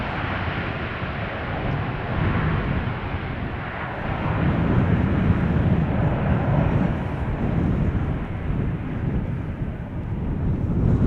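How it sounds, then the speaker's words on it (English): A KLM airliner landing at Schiphol Airport, a steady broad engine roar and rush of air heard from a distance, swelling slightly partway through and tinged with wind noise on the microphone. "Here's your KLM style landing, keeping up the speed, vacating late."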